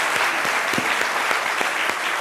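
Loud, dense applause from a studio audience on a Côte d'Ivoire television programme, steady clapping filling the room throughout with no voices over it.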